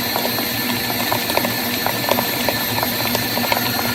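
Oreo cheesecake batter beaten in an electric mixer until creamy, a steady loud motor whir with rapid rattling ticks from the beaters churning continuously, close, with no talking.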